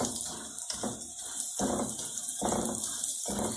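Lukewarm water poured from a vessel into maize flour for roti dough, coming in several separate splashy pours with short breaks between them, close and moderately loud.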